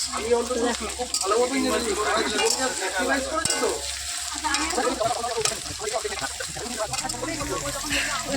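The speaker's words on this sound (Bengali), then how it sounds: "পিঁয়াজ ভাজা চলছে" Onions sizzle and frying in oil in a pan in a home kitchen, a continuous crackling hiss with occasional stirring scrapes, steady and close, with some background voices mixed in.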